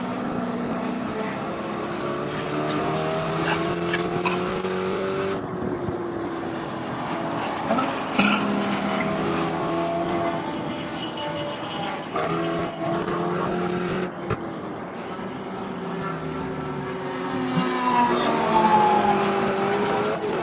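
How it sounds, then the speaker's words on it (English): Spec Corvette race cars climb the hill at Sonoma Raceway on a hot day, engines roaring and shifting steadily through the whole stretch with rising and falling pitch, loud and continuous, with no talk. "Greg Nestor, excuse me, in the red Corvette heading up the hill"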